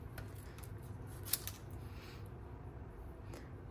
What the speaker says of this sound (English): take your snips and cut out a couple of French fries